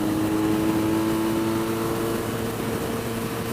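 A Benelli Leoncino 500 motorcycle engine held at high revs in a high gear, a steady loud droning whine with a strong tonal hum that barely changes, heard without any talk.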